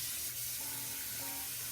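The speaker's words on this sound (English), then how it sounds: "Let me rinse them off a little bit actually." Water from a kitchen tap runs steadily over chicken giblets in a sink, a faint continuous rushing with a low hum underneath.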